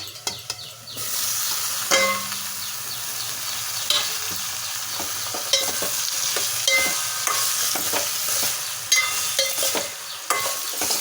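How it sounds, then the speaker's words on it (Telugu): Ridge gourd pieces stir-fried with ginger and garlic in a hot pan: a steady sizzle runs throughout, with repeated close scrapes and stirring clinks from a spatula. No one speaks. "ఒక్క నిమిషం పాటు ఇలా బాగా కలుపుకొని అంతా బాగా కలిసేలాగా"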